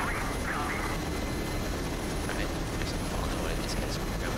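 A Mi-8 helicopter flies in the DCS World combat simulator, its rotor and turbine drone holding at a steady, dense, even level throughout.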